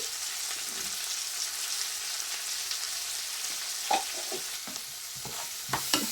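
Sliced onions fry in a pan with salt and turmeric as the base of a tinned fish curry, giving a steady hiss and crackle throughout, with a few soft scrapes of stirring near the end and no voices.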